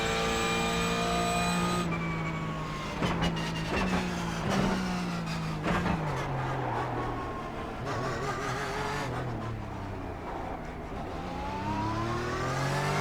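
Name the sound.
Porsche 911 GT3 Cup engine and gear changes in iRacing video game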